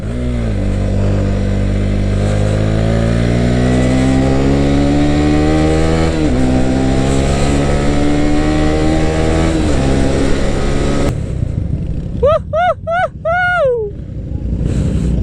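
Several motorcycles, including a Honda Winner 150, rumble loudly and steadily on a dark road at night during a group ride, with one engine revving up over the continuous drone; near the end, laughter and excited voices break in.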